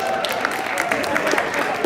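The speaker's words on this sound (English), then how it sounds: "All right, clap it up for yourselves one time." Audience at a talk applauding themselves, a brief burst of moderate clapping with a faint voice underneath.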